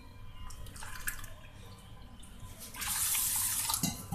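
Water runs from a tap into a vessel of washed basmati rice for soaking, a steady trickle that swells into a louder, fuller gush near the end.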